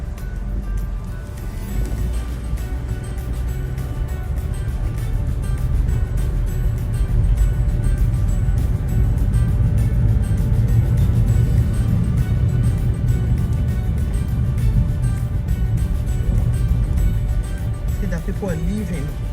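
A car rolls along a road through a residential community in Epe, with a steady low engine and tyre rumble throughout and a person talking over it.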